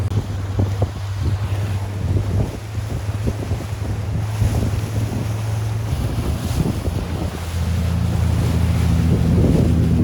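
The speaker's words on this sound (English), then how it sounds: "Nice and windy." Strong wind roars across a sailboat at anchor with waves sloshing against the hull. Heavy microphone buffeting runs throughout as a loud, continuous rush, and it swells stronger toward the end.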